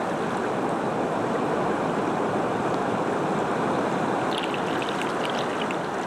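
The Congo River's rapids at the Goyoma falls roar in a steady, dense, unbroken rush of water, loud and close throughout, with faint high trickles near the end.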